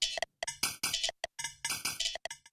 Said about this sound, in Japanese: こんな感じのリズムっぽい音です。